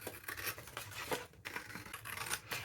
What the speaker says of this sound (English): And then we can simply cut around our envelope without cutting into it.